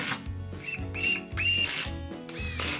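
A power driver sinks fully threaded screws into deck boards, giving several close bursts of rising whine and ratcheting clatter as the screws bite and are run in again, each burst separated by short pauses.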